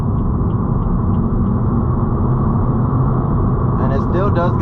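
A BMW M235i roars under hard acceleration with some wheel spin, a loud, steady engine drone heard from inside the car, with a voice briefly cutting in near the end.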